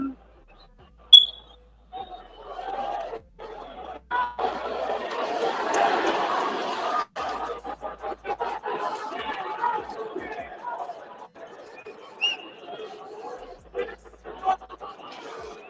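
A boxing arena crowd during the Isaac "Pitbull" Cruz vs Lamont Roach fight roars in a swelling wave of cheers and boos that peaks midway, then settles into a restless murmur with scattered shouts, all under close commentary talk.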